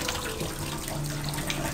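Rice being rinsed under a running kitchen tap, a steady, even rush of splashing water that holds without a break from start to finish, with no talking.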